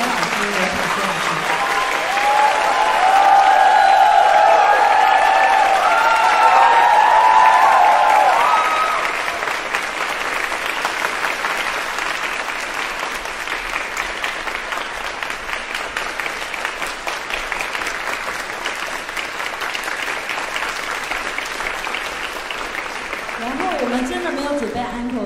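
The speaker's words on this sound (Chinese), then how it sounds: "请再给中正知音合唱团热烈掌声" An audience applauds a choir at a concert hall. The clapping is loud and dense for several seconds, then thins into a lighter, steady patter that carries on to the end.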